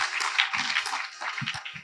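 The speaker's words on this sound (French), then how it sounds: "on l'applaudit très fort" Audience applause fills an awards ceremony hall, dense and steady for the whole stretch, with a few low murmuring bursts underneath.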